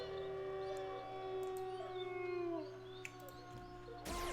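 Dogs howling in a survival video game, several long wavering tones overlapping close by and loud over a steady droning game soundscape, ending with a burst of noise.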